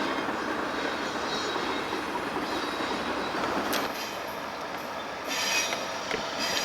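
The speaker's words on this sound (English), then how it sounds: "Hidden behind 12Z is Priority Intermodal Train 26X, continuing eastbound for a crew change at the fuel pad in Harrisburg" A Norfolk Southern priority intermodal freight train rolls past steadily at close range on the Pittsburgh Line near Harrisburg, a continuous heavy rumble with wheel squeal rising in the later seconds.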